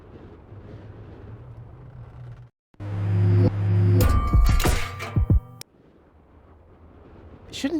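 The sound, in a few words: explosion blast in the video game Deponia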